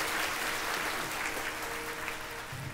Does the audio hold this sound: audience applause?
yes